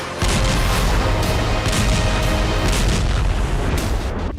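Dense, loud booming and crackling bursts of gunfire and explosions from urban combat among tall buildings in Jabalia camp, Gaza, continuous throughout with no pauses.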